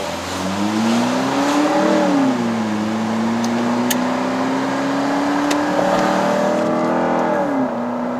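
A 2011 Mazda 6 GH with a 2.5-litre engine revs hard from inside the cabin on a Malaysian test drive, its loud, rising note climbing, dipping and climbing again with a sharp VTEC-like edge, no talking.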